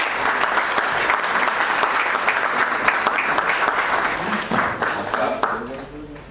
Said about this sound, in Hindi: उन सबका आपके द्वारा जोरदार तालियां।